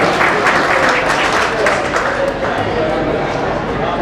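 Audience applause at a community prize-giving ceremony, dense, loud clapping from a crowd that carries on steadily throughout.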